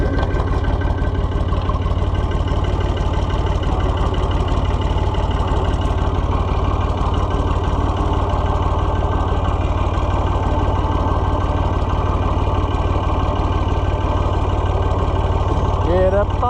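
A four-wheel-drive tractor engine runs at a steady, loud idle close by. The low throb holds unbroken for the whole stretch, with faint voices now and then.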